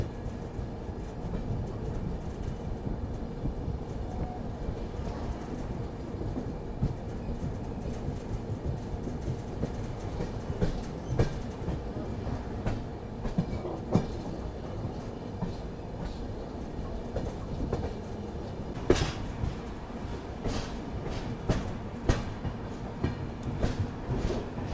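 The Somnath Express with LHB coaches rolls along the rails toward Bhaktinagar railway station, giving a steady rumbling drone with irregular clickety-clack knocks and occasional sharper clanks, heard from on board with no talking.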